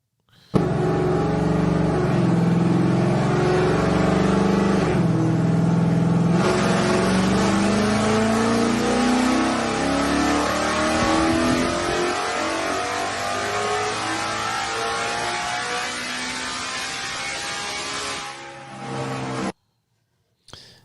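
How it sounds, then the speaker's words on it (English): Naturally aspirated Ford Coyote V8 in a GT500 running a high-speed seventh-gear dyno pull, loud and close, engine note climbing steadily in pitch for about eighteen seconds before cutting off abruptly. "Well, let's look at a dyno pull."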